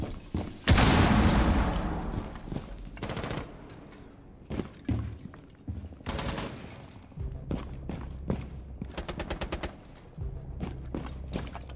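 Gunfire in Rainbow Six Siege, with loud bursts of automatic fire and scattered single shots, one heavy boom near the start, then rapid volleys and cracks that come and go over about twelve seconds.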